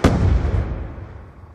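A bouncing Betty mine goes off in Black Ops II, one loud close blast that decays into a rumbling tail over about a second and a half.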